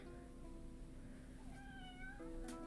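A house cat lets out a drawn-out meow with a second short call right after it, both close by, over a steady low indoor hum.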